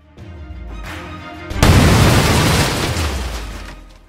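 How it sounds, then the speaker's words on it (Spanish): A low rumble builds before a sudden, massive explosion as an Airbus A310 airliner hits the ground, erupting into a long roaring blast that slowly fades away. "el A310 acabaría impactando contra el terreno provocando una gran explosión"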